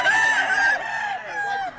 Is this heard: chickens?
yes